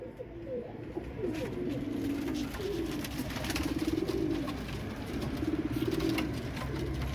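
Royal Teddy pigeons cooing in a loft, a run of soft repeated rolling coos over a steady background of fluttering and shuffling.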